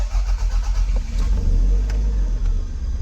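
A Toyota MR2 in a rebuild project firing up outside a workshop after six years off the road, its engine catching and settling into a loud, close, rumbling idle that pulses slightly throughout.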